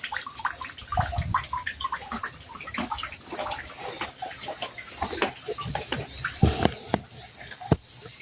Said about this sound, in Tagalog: maraming patubig